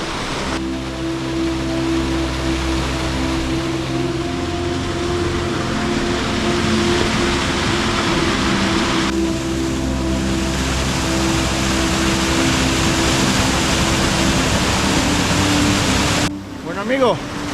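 Water pours steadily over a dam on the Río Turón in Málaga, a loud, continuous broadband rush heard up close along a riverside trail, with a brief change in tone near the end.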